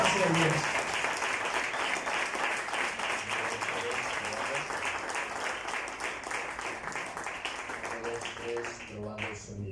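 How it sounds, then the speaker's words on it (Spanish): Applause in a church service, a congregation clapping steadily for several seconds, moderately loud and continuous, with some voices and a few musical tones coming through near the end. "Un aplauso, mi amigo."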